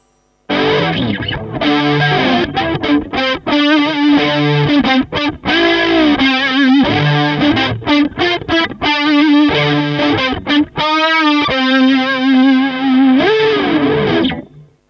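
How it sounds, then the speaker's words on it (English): An electric guitar through a Kemper Profiling Amplifier plays a sustained melodic line with a shimmering, warbling vintage chorus effect and some grit, notes ringing and bending. "Vintage chorus, that sounds lovely."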